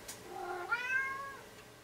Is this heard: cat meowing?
yes